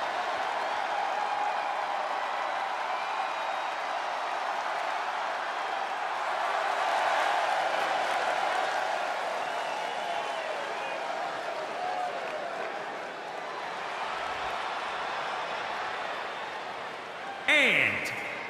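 Arena crowd in the WWE 2K20 wrestling video game, a steady roar of cheering and applause that swells in the middle and fades slightly, with a brief clatter near the end.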